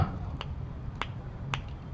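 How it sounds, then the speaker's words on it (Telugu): Three crisp finger snaps spaced about half a second apart, sharp and close over a low background hum. "చిటికి లేస్తా."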